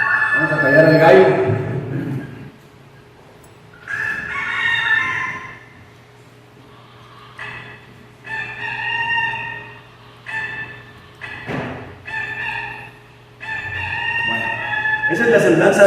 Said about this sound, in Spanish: Vamos a callar al gallo.